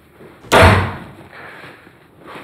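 An indoor door is pushed shut with a single sharp, loud slam that gives a hard thud, followed by faint room noise and a soft rustle.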